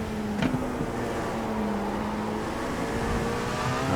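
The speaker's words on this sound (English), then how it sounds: "Then you can hear the exhaust, that's traction control." A steady race car engine drone in a video game, with a brief crackle near the start as the exhaust pops from traction control while holding revs.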